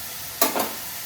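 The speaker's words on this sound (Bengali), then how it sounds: "হাই ফ্লেমে নাড়িয়ে চাড়িয়ে নেব, ভেজে নেব, আরও ভেজে নেব।" Potato leaves are stir-fried in a pan over high flame, with two quick scraping stirs sending up bursts of sizzling over a soft steady background hiss.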